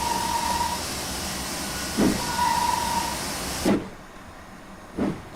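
A steam locomotive in the Train Simulator video game, running on the Riviera Line in the 1950s, hisses steadily at close range, with a long whistle-like tone, a few sharp chuffing bursts, and then a quieter background.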